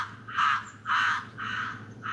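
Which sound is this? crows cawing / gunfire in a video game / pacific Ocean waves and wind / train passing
crows cawing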